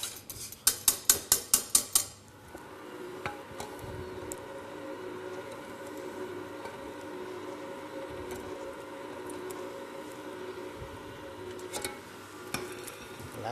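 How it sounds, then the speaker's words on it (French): A utensil stirs and folds a strawberry mousse mixture into whipped cream in a bowl: a quick run of sharp taps against the rim opens, then soft, steady scraping and stirring continues close by. "le mélange, je vais le mettre dans la crème montée"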